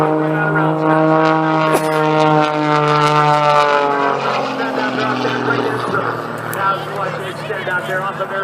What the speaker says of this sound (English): Now as he powers that airplane right back